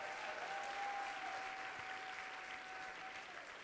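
A church congregation at a Hillsong Paris service applauds the worship team, steady, fairly faint clapping that runs through the whole stretch with no talking.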